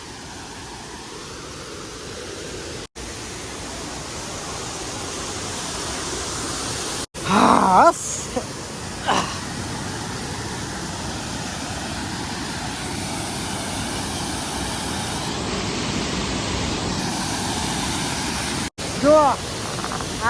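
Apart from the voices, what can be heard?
Nakhal waterfall rushing after monsoon rain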